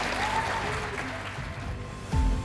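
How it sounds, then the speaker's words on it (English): Audience applause welcoming a speaker to the stage, a dense, fairly distant wash of clapping with a faint tone and a low thump near the end. "Would you please give a great big round of applause to Mr."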